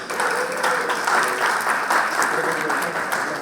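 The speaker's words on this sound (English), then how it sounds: "So a round of applause for him, please." An audience at a conversation event breaks into sustained applause, a dense wash of clapping hands that stays loud and even for the whole stretch.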